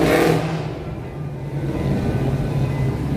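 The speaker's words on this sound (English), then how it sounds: "Why do cars always got to pollute the air with their loud mufflers?" A car with a loud muffler passes on a Chicago street near the Museum Campus, its engine a rough, droning rumble that swells at first, eases briefly, then holds steady and close with no voices over it.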